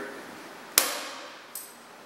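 Bolt cutters clamped in a vise snap through a 5 mm steel rod, giving a sharp metallic crack followed by a second, fainter snap less than a second later, both close and with a brief ringing decay.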